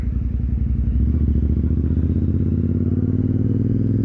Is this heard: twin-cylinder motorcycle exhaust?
yes